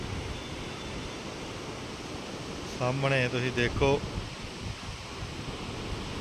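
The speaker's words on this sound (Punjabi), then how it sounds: "ਉੱਤੋਂ ਨਹਿਰਾਂ ਦਾ ਪਾਣੀ ਜਿਹੜਾ ਇਦਾਂ ਸਪੀਡ ਦੇ ਵਿੱਚ ਇੱਧਰ ਡਿੱਗਦਾ ਵਾ" Fast-flowing water of the Jhelum river and its canals near Uri and Baramulla makes a steady broadband rush heard from nearby, with someone briefly speaking over it.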